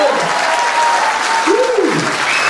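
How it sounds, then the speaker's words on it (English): An audience at a talent show claps in a broad, sustained burst of applause, with a voice speaking over it briefly. "Everybody give a big round of applause"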